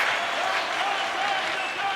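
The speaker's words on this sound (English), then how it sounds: "You can feel the energy in this crowd" Ice hockey crowd in an arena applauding a goalie's save during a tied game, a broad steady wash of clapping and crowd noise that fills the whole moment.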